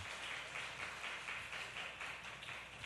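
Applause from a church congregation during an afternoon worship service, steady and moderately distant, rolling on evenly for a few seconds without speech.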